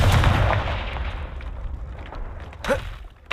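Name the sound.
Confringo spell blast from Hogwarts Legacy video game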